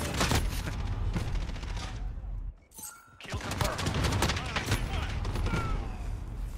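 A shotgun fires repeatedly in a video game, loud and close, with rapid sharp blasts and mechanical clatter, a brief lull near three seconds, then more firing.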